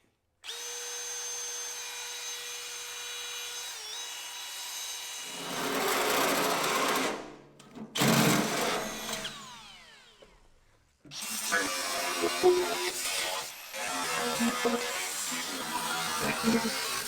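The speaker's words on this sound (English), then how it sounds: "This little drill's getting overheated." A small electric drill, running hot while boring through metal on an old Caterpillar dozer. It whines steadily at first, then gives several louder bursts of drilling split by brief pauses.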